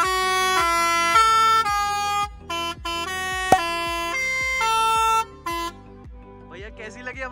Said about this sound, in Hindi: इतनी अच्छी सियाज विद ट्रक वाला हॉर्न